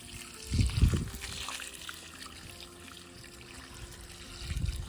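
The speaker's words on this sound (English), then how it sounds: "I'm going to water it in" Water poured onto a freshly repotted boxwood bonsai planted root-over-rock, a soft trickling splash with two louder gushes near the start and end, close and alone.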